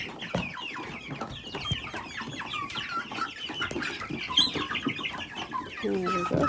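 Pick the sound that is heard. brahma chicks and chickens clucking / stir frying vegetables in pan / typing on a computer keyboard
brahma chicks and chickens clucking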